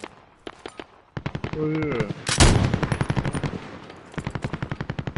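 Rapid automatic gunfire fills an online video game shooter with bursts of closely spaced shots, a heavy blast in the middle and a final fast burst. A person briefly exclaims over the shooting.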